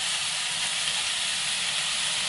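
Shrimp sizzle in a frying pan over medium heat with a steady, close, broadband hiss that holds evenly for a couple of seconds, and no one speaks.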